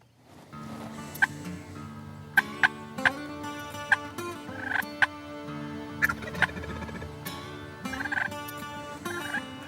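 Osceola wild turkeys gobbling in the woods before dawn: several distant rattling gobbles ring out one after another over a quiet backdrop of faint frog croaks and chorus, some calls overlapping as birds answer each other.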